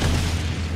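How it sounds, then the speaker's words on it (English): A huge explosion in the video game El Shaddai, a dense, sustained deep boom with a loud low rumble filling the whole moment, heard alone with no talk. "Whoa, that is a huge explosion."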